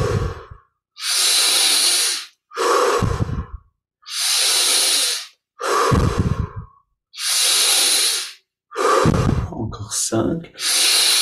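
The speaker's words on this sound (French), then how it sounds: "Reprenons 10 respirations profondes dès le début avec le plus d'amplitude et d'intensité possible." Deep, forceful yogic breaths in a Kriya Yoga practice, long hissing inhales and exhales alternating in a steady rhythm, loud and close with no talking.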